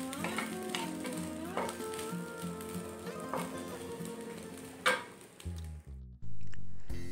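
Fried rice with Medan anchovies and kaffir lime leaves sizzles steadily in a hot pan, with stirring scrapes throughout. The frying fades out near the end.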